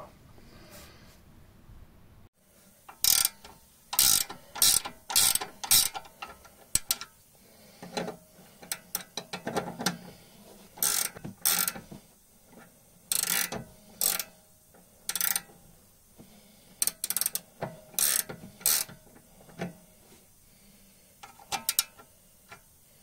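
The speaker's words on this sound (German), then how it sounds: "Dann werden wir die Schrauben öffnen und später dann noch die Koppelstangen hier" Bolts loosening on the steering parts of an Opel Omega with a faulty steering system. A ratchet wrench clicks in quick bursts of rapid ticking with short pauses between them, and there are faint clanks of tools.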